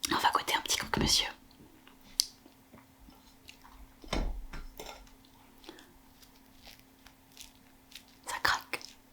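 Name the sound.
biting into a crunchy croque-monsieur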